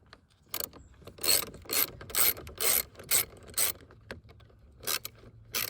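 Ratchet loosening the negative battery terminal on a Ford F150, a close series of quick clicking bursts in an uneven rhythm, about a dozen pulls.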